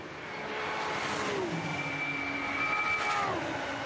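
BMW and Porsche race cars pass during the Nürburgring 24 Hours start, engine notes rising, then dropping in pitch as they sweep by, with a second car following close behind under a constant crowd-and-track roar.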